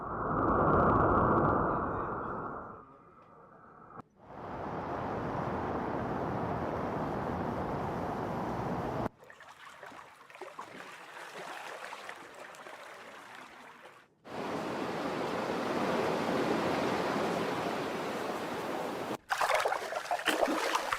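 AI-generated water effects of deep-sea ocean waves and turbulent water are stitched together into several separate passages, each a loud, steady wash of rushing water that cuts off abruptly before the next begins.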